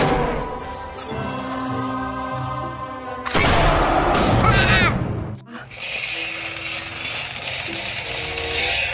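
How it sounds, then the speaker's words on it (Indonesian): A toy bazooka fires with a loud, rattling electronic burst that lasts about two seconds, standing out between stretches of busy toy sound effects and music-like tones, close and harsh. "Wow, mainan tembakan basoka."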